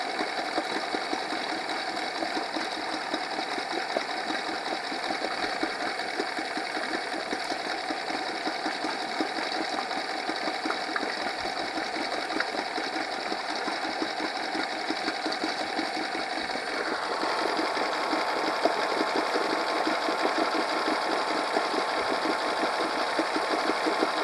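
A Honda 8 hp four-stroke outboard engine with a recently cleaned carburetor idles steadily, a fast, even mechanical chatter with a dense whirring tone that rises slightly partway through, close and continuous with no talk.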